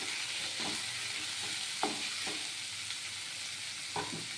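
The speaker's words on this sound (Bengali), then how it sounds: "এটা লবণ হুড়িতে মেখে এইভাবেই শুধু ভাজা ভাজা হবে" Salted radish greens fry in a pan with a quiet, steady sizzle, and a handful of spatula stirring scrapes land every second or so, heard close with no talking.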